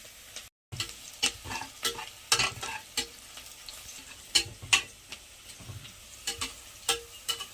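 Onions frying in oil until golden brown, with a steady low sizzle under a series of scraping, clicking stirs from a spatula against the pan, close by and without talk.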